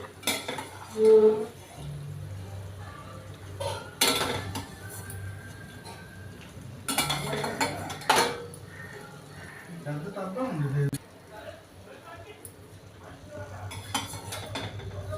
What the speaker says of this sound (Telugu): వేగిపోయండి ఇవి ఒక బౌల్లోకి తీసేసుకోవాలి